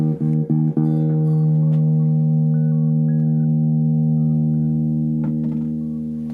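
A cheap electric guitar fitted with a new Seymour Duncan pickup plays through a small practice amp. A few quick plucked attacks give way to one long, ringing sustained note that slowly fades.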